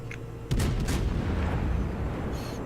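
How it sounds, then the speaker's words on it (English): Naval guns firing shells in World of Warships, a sharp booming report followed by a rolling rumble that fades out, heard once and close, with no talking. "Razor just sitting back here and just popping shells at this enemy ship"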